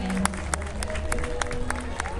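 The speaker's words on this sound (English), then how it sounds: "Please give a big round of applause for the Boy Scouts Pack and Troop 94 kicking off this year's Veterans Day Parade" Outdoor crowd applauding the Boy Scouts Pack and Troop 94 as they open a 2011 Veterans Day parade: scattered, distinct claps rising over a steady street crowd murmur.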